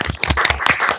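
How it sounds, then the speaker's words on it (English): Brief burst of clapping from an audience at a polytechnic impromptu speaking competition, a few close, sharp claps over about a second with no talk. "A round of applause for Mr. Nat."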